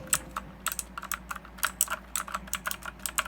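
Steady typing on a hot-swappable Redragon mechanical keyboard with blue switches gives sharp, clicky keystrokes in an irregular quick rhythm, close and crisp, with no talking.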